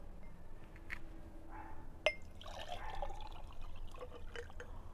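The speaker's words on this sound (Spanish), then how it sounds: "Lo voy a echar aquí en un vaso para que aprecies que agarra lo de un vaso" Liquid poured into a large glass, a soft trickle and dribble with a distinct clink of glass partway through, fairly faint against a low background hum.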